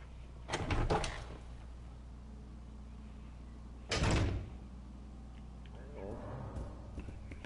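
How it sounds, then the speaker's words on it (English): Door unlocking and opening in the video game Resident Evil 0, heard as two loud clustered mechanical clunks, a rattling burst near the start and another a few seconds later, over a steady game hum. "Unlock the door."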